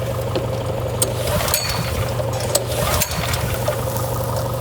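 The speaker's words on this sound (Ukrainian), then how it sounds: "Зараз запускаємо генератор і подивимося." A small petrol generator runs with a steady low engine drone and hum, broken by occasional sharp clicks and knocks nearby.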